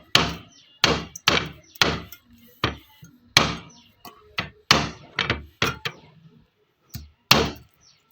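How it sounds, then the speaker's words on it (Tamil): A knife chops through a purple crab in sharp, separate thwacks and thunks, about a dozen blows in an uneven rhythm, close and loud with quiet gaps between. "சென்டரில் வெட்டிட்டோம்னா ரெண்டு பீஸ் ஆகிடும்"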